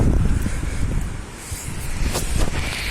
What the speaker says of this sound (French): il y a vraiment beaucoup de vent et beaucoup de voitures